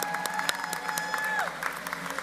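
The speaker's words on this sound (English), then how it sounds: "Let's give them a round of applause" Applause for a band at a Labor Day breakfast, a steady patter of many hands clapping in a room, with faint background voices underneath.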